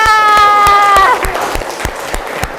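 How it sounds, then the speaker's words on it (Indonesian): Schoolchildren in a classroom clap for the winning group, a sustained tonal sound fading out at first, then scattered, irregular claps from a small group continuing on their own. "Tepuk tangan untuk kelompok 3."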